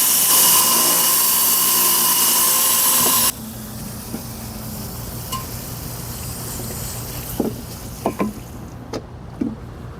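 A rock saw cutting Laguna lace or Baker Ranch agate, a loud steady whining hiss for about three seconds that then cuts off, leaving a low hum and a few light clicks.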